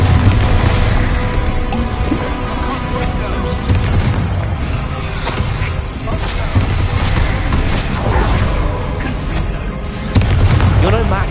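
Repeated fiery blasts and booms from Confringo fire spells in the game Hogwarts Legacy roll on loudly in a dense, continuous barrage, with game voices talking faintly underneath.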